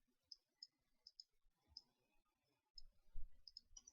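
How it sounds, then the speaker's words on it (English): Computer mouse clicks during 3D modelling work in Maya, a sparse run of light, crisp single clicks spread across a very quiet room, with faint low handling noise toward the end. "I'm just lightly clicking on this."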